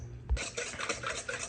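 Sugar being stirred into a cinnamon roll mixture in a bowl, quick scraping and clinking strokes of a utensil against the dish, close and fairly quiet, with a soft thump at the start.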